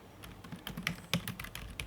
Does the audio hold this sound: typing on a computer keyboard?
yes